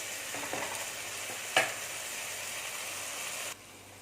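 Mushroom masala cooks in a pan with a soft, steady sizzle, heard fairly faintly. A sharp single clink comes midway, and the sizzle drops off abruptly near the end.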